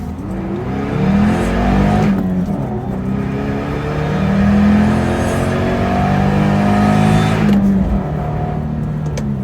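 A supercharged Subaru FB25 engine pulls hard from a standstill to about 58 mph, its loud, close drone climbing through the gears with two brief dips at the shifts before rising again, no voices present.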